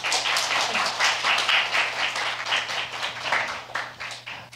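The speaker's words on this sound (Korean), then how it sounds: "박수." An audience at a Korean church youth service claps in steady applause, a dense patter of many hands at moderate distance over a low constant hum, gradually thinning toward the end.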